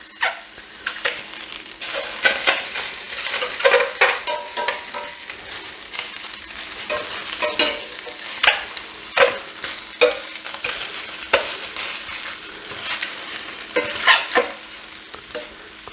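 Sausages brown in a hot pan with a steady, close sizzle, broken by repeated stirring and scraping knocks every second or so, with no talking.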